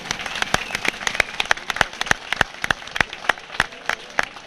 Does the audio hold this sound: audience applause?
yes